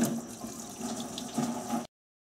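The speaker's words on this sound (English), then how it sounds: "antifreeze may come out, so just have a drain pan ready to catch the antifreeze" Antifreeze draining from a disconnected radiator hose on a Nissan Maxima into a drain pan, a faint steady trickling flow of liquid that cuts off abruptly into silence.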